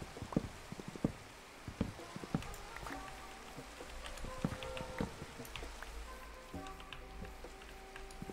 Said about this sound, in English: What is that noise? Oh, it's raining